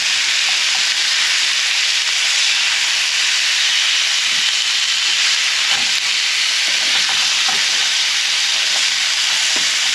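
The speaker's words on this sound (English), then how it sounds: "I'm going to saute an onion" An onion sautéing in a pot gives a loud, continuous sizzle and hiss that stays steady for the whole stretch, with a few faint clicks and knocks underneath.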